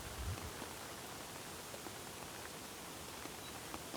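Faint, steady hiss of lingering rain falling on and around a camping tent after a thunderstorm has passed, an even wash of drops with no thunder and no voices.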